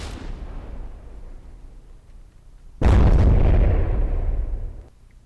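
Shells explode against a ship in the naval game From the Depths, with a dying rumble of one blast followed by a sudden, loud, booming explosion that rolls on for about two seconds before fading.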